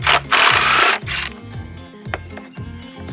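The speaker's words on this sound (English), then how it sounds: "all we have to do is just unscrew our equidistancer" Screws being backed out of an equidistancer used to center pipe on cross members: a short burst of rough, whirring mechanical noise up close, then quieter, uneven rhythmic grinding and clicks.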